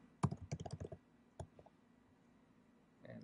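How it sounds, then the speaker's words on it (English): Someone types a password on a Chromebook keyboard: a quick run of soft key clicks, a pause with a couple of isolated taps, then a few more keystrokes, all close and quiet. "now just type in your password again"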